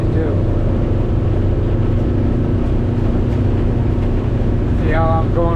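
The outboard motor of a 22-foot 2022 North River boat runs with a continuous low rumble and wind buffeting, and someone speaks briefly near the end.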